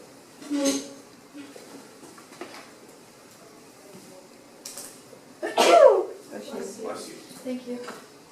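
A single person sneezes once in a quiet classroom-like room, a sharp burst of breath near the middle, with scattered small room noises before and after.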